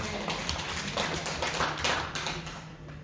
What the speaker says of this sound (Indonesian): Mau tepuk tangan buat kita